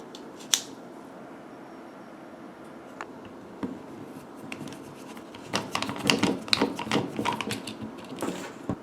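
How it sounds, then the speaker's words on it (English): Torx T8 screwdriver with a magnetic-tip bit removing the screws of an Xbox 360 controller: small plastic clicks and ticking scrapes, sparse at first, then a busy close-up rattle of turning and handling in the last few seconds. "This way you could just pull the screw out after it loosens it."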